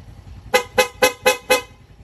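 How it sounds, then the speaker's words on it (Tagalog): A Yamaha Fazzio scooter's stock horn honks five quick, evenly spaced beeps, loud and close, with no talking. "Back to stock horn."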